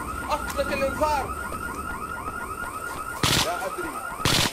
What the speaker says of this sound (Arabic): أطلق الإنذار.